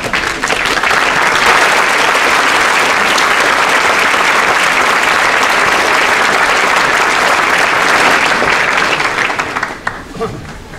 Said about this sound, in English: So I hope you will stand up and turn around and give them a great round of applause.